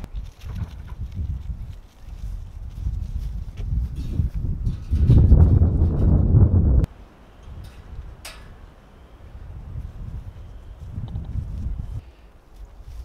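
Strong wind buffets an outdoor farm yard with fenced turkeys, chickens and goats, roaring in steady gusts that swell loudest near the middle before easing into a lighter, ongoing rumble.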